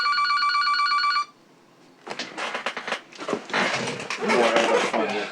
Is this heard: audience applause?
no